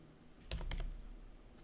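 A brief cluster of a few keyboard key presses, soft and close, in otherwise quiet surroundings.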